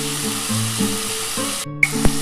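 Onion goes into a pan of frying potato and bitter gourd, giving a steady close sizzle of hot oil with a couple of brief stirring knocks near the end.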